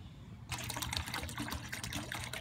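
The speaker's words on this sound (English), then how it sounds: "filling up the water" Water gushes steadily from a spigot on the side of a building as a container is filled, starting abruptly and running as a continuous splashing stream up close.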